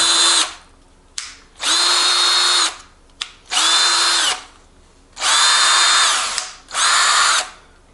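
Craftsman 19.2V cordless 1/2 inch impact tool running in five loud, close bursts of high whirring motor noise, each lasting about a second, separated by short pauses, with no talking.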